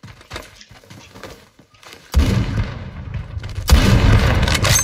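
Gunshots in the shooter game Phantom Forces, with a few scattered sharp shots at first, then two loud booming blasts that each trail into a long rumbling roar.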